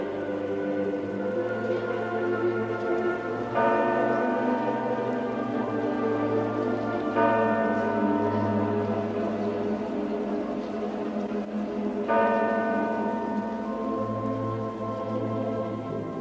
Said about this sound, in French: Les cloches des églises sonnent le glas.